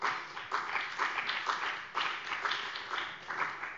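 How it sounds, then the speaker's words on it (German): Applause fills a state parliament plenary chamber, steady mid-level clapping from many hands that runs the whole stretch with slight swells and no talk. "Applaus"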